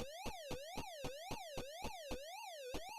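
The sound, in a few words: siren sound in a Pac-Man video game prototype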